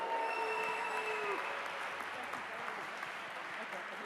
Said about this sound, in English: Can we have a massive round of applause again for Bridget?